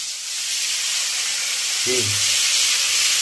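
Bitter gourd fries in a pan with a constant loud sizzling hiss from start to finish, and a brief faint low tone passes midway.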